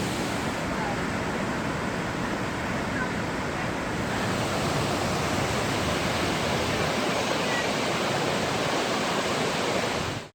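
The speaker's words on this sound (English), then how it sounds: "Lower falls in Johnston Canyon." Steady, dense roar of heavy water pouring through a canyon at a waterfall, the Lower Falls in Johnston Canyon, Banff, constant and loud throughout with no pauses.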